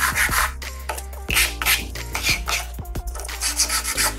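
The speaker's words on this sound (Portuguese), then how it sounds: "E aí você pega essa peça aqui, dá uma lixada para ficar um acabamento perfeito." A small model-making part is sanded smooth by hand, giving a series of dry, raspy rubbing strokes at close range in an uneven rhythm, with no talking.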